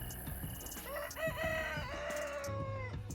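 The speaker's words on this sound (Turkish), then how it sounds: "Horoz efekti vermişler" A rooster crows loudly in a long, rising-and-falling call, with other soft clucking and rustling around it; a sound effect in the video game Recycling Center.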